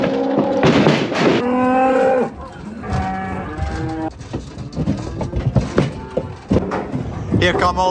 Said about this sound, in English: Here come all the calves. So there's 20 calves to go with all these cows.